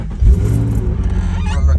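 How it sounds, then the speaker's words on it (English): A Nissan Z car with a faulty oil pressure switch starts up, the engine catching into a loud, steady low rumble that holds close to the microphone for a couple of seconds. "turn the car on."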